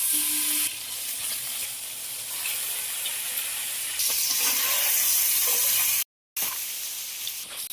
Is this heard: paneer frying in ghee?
yes